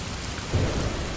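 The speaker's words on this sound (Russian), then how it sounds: "темно и льет дождь" Heavy rain pours down on a dark September day outside a cafe, a dense loud hiss with a low rumble of thunder swelling briefly in the middle.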